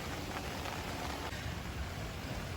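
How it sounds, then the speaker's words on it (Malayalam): Heavy rain pours steadily over an outdoor fish-rearing pond, a dense, even hiss with no breaks or voices. "ഏകദേശം നല്ല മഴ പറഞ്ഞാൽ നല്ല മഴയാണ്."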